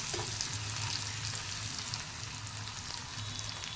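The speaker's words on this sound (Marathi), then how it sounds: "कांदा आपल्याला चांगला परतून घ्यायचा आहे" Chopped onion and green chilli frying in a pan, a close continuous sizzle with soft stirring scrapes running steadily through, no talking.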